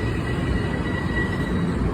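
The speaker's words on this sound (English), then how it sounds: "let's just wait for this train to stop." A commuter train rumbles steadily at close range with a deep low roar and a thin high tonal whine, no voices over it.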